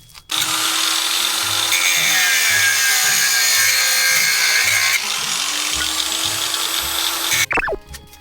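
Loud, steady power-tool grinding on a Subaru GC8 Impreza part, shaving down contact points so a BP/BL power steering pump fits, running continuously for about seven seconds before cutting off abruptly.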